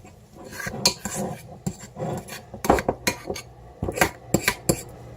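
A utensil scrapes cookie dough for Mexican wedding cookies from a mixing bowl in a quick irregular series of scratchy clinks and rubs, close up and fairly quiet.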